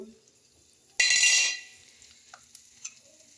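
Onion, curry leaves, green chillies and ginger dropped into hot oil for a fish curry, a sudden loud burst of sizzling that fades quickly, followed by light stirring taps.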